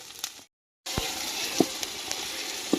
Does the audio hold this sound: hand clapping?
no